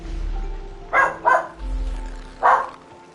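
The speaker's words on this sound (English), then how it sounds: "I apologize for the dog barking." A dog barks three times nearby, two quick barks close together and a third a moment later, over a low background rumble.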